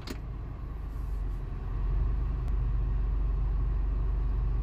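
A car engine with a faulty IAC valve idles rough in reverse under added load, a low, heavy rumble that swells slightly partway through and then holds steady and close.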